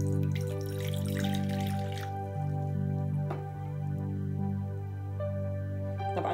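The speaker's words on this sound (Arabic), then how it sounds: "راح أضيف ربع من مقدار الماء حتى أذوب بالخميرة" A quarter cup of warm water pours into a bowl to dissolve yeast for cinnamon twist dough, a close, continuous trickle and splash with faint droplet plinks, alone.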